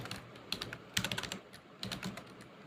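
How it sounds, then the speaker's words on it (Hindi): Keys clatter on a computer keyboard in short bursts of quick typing, close and clear, with brief pauses between runs and no talking. "पैडिंग की जगह हम यहाँ पर टाइप कर देंगे मार्जिन"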